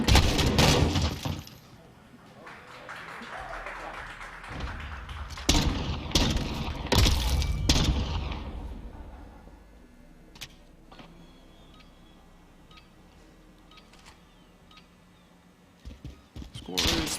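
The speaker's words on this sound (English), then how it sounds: "Some early deagle shots." Desert Eagle pistol shots in a Call of Duty: Modern Warfare gunfight match, several loud, sharp blasts with crashing, glassy impacts early on, then quieter game ambience and a few later hits while people talk.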